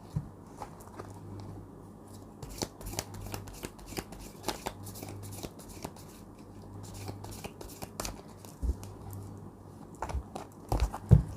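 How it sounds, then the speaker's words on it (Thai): Tarot cards being gathered and shuffled in rapid bursts of crisp, papery riffling and slapping, close and fairly quiet, with no talk. "เดี๋ยวอาจารย์รวบไพ่นะ"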